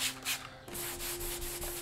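Clay scrubber pad rubbing back and forth over contaminated car paint on a VW dune buggy, a close, gritty, rhythmic scrape in quick repeated strokes, with no talk.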